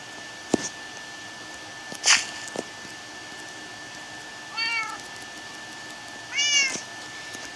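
A cat in the video game Alex's World lets out a few separate meows with quiet gaps between them, alongside a couple of brief sharp clicks, clear and close with no talking.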